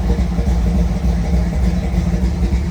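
A 1933 Ford Vicky engine idles steadily with the air conditioning running, a continuous low rumble that stays even and close throughout, with no talking.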